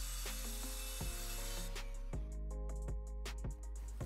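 A power saw cuts rough construction-grade plywood along a straight edge, a steady whine with repeated scraping, knocking pulses, close and alone without talk.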